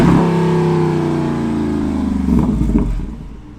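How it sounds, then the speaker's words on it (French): A stationary Jeep Wrangler SRT392 V8 revs loudly through its exhaust, a deep, close roar held steady and then falling away as the revs drop. "Maintenant, on va faire chanter un peu l'échappement."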